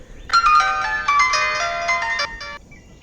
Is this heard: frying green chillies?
no